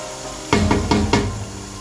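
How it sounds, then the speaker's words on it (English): Beef stir frying in a pan for a Nigerian beef stew, a steady close sizzle broken by four sharp knocks of a spoon against the pan in quick succession. "Leave it to stir fry for 5 minutes."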